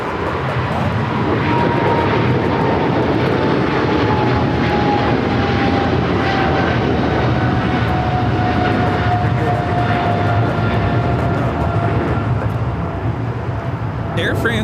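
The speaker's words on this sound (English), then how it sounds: "Air France Flight 23 taking off to Paris on the 777-300ER." Air France Boeing 777-300ER taking off at LAX, a steady loud roar of jet engines sustained throughout with a slowly falling whine, distant voices talking over it.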